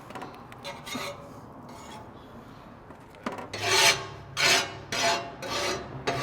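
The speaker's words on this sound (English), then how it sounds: "Just gonna clean up this griddle a little bit, get the mess out of the way." Metal spatula rasping across a flat-top griddle after cooking smash burgers, scraping off grease and debris; after a quieter stretch, several loud, close strokes come in bursts, each a harsh grinding scrape.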